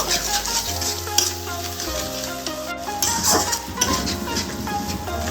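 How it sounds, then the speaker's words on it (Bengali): Ground cumin and coriander masala stir-fries in a pan for a Bengali fish head moong dal, giving a steady close sizzle with ongoing stirring and scraping throughout. "এবার সমস্ত মশলা 1 মিনিট ধরে ভালোভাবে কষিয়ে নেব।"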